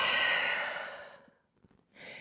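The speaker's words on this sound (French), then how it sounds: "Grande respiration en chien tête en bas." A single long, audible exhale during downward dog in a vinyasa yoga practice, breathy and close, fading out after about a second, then a brief soft breath sound.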